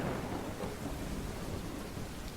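Steady rain pours with deep rolling thunder in a video game being tested, a dense continuous wash of downpour and low rumble filling the whole stretch without any talk.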